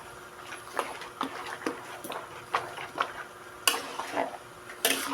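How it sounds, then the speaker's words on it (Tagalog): A spoon scrapes and clinks repeatedly against a pot while pig blood stew (dinuguan) is stirred. The strokes are quiet, close and rhythmic, with a few sharper knocks. "tuloy lang paghalong ganyan habang ang dugo ay hindi naluluto para hindi magbuo-buo"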